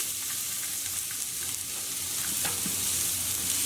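Onions and celery fry in two to three tablespoons of oil in a large pot over medium-high heat for meatball soup, a loud, even sizzle with occasional stirring ticks and no talking.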